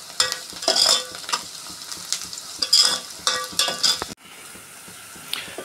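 Onions sauté in a pan for fish curry, with a steady close sizzle under repeated spoon-scraping stirs and clinks against the pan. The sizzle drops sharply near the end.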